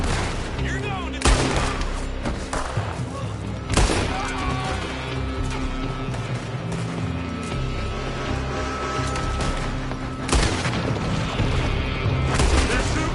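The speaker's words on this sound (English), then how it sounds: "They're shooting from that building." Gunfire rings out from a building in a Lego Red Dead Redemption 2 video game, bursts of shots and booms layered over a dense, continuous game soundtrack and effects.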